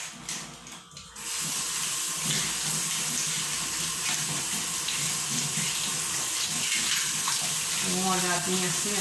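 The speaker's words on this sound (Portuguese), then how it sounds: "A água descendo." Kitchen faucet water pours steadily into a sink during dishwashing, a constant close rushing stream with light clinks of dishes and cutlery, no talking.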